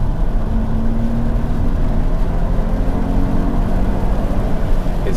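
A Mercedes SL 350 R230 with a naturally aspirated V6 accelerates hard, its engine a loud, steady, droning roar with a broad low rumble held throughout, as heard from inside the car.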